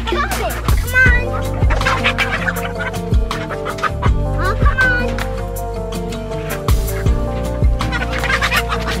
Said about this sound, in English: that chicken's coming.